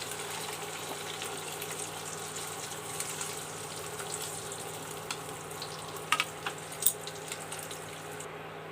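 Eggs frying in hot oil for an egg curry, a steady close sizzle with soft crackle and a few sharper pops near the end, no voices.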